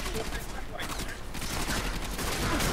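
Rapid weapon fire in the sci-fi shooter Warframe during a co-op mission, a dense continuous volley of shots with no clear gaps, steady and fairly loud throughout.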